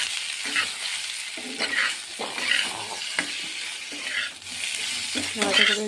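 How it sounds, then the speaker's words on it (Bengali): Dry red chilies and spices sizzle steadily in hot oil while being stirred in a pan, a close, continuous crackling broken by the scrape and clack of the spoon, with no talk. "শুকনো লঙ্কা ফোড়ন দিয়েছি, দিয়ে নাড়াচাড়া করে"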